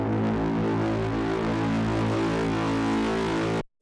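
A heavily distorted braam effect, processed with a Decapitator saturation plugin, blares as one loud sustained low brassy drone with dense buzzing harmonics for over three seconds before cutting off abruptly.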